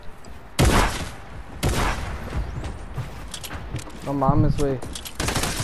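Fortnite Battle Royale gunfire rings out in sharp, loud bursts, two heavy shots early, then scattered fainter pops, with a player's excited voice speaking between the shots.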